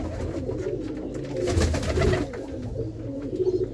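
Pigeons kept by a fancier coo in a low, throaty rolling murmur that swells briefly in the middle of the short stretch, close by with no talk.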